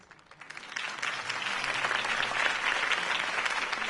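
A crowd breaks into applause after a campaign speech in Gotham City, swelling quickly from scattered claps into dense, sustained clapping that continues throughout.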